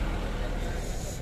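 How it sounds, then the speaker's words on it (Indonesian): A truck engine rumbles steadily nearby as the vehicle prepares to pull away, with a broad low drone and faint hiss, no voices. "Ini sudah mau berangkat truknya Brewo."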